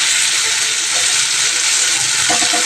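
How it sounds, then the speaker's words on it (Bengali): Potato, tomato and onion fry in oil with cumin, salt and turmeric, making a dense, steady, close hiss of sizzling throughout. "আর ওই তেলের মধ্যে আমি জিরে ফোড়ন দিয়ে সব সবজি, মানে এই আলু, টমেটো, পেঁয়াজ সব একসাথেই দিয়ে দিলাম"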